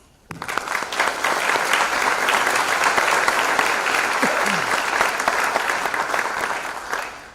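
An audience at a college honors convocation applauds for awardees, sustained, dense clapping from a large crowd lasting several seconds before tapering off.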